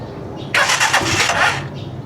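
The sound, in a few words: Rusi Chariot 175 motorcycle engine starting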